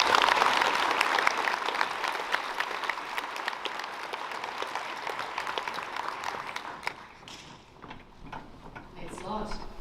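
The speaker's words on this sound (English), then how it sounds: "Please give them a round of applause." Applause at the Aquinas College senior school prize giving: a crowd claps steadily and fairly loudly, then thins to scattered claps near the end.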